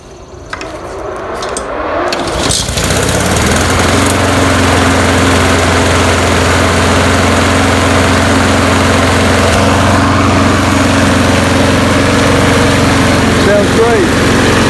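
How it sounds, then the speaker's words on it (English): A Honda-carbureted YardMan 21-inch 5.5 HP lawn mower engine starts after a choked start and settles into a steady, loud running drone that stays close and continuous with no talk over it. "we're going to try the mower out for the first time since putting the carburetor back on and cleaning it."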